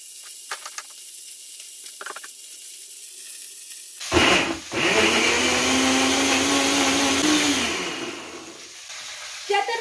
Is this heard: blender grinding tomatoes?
yes